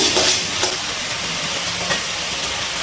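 Mixed vegetables fry in a pan while being stirred for a restaurant-style mixed veg curry, giving a steady close sizzle and hiss with intermittent scraping strokes of the spoon, and no voices.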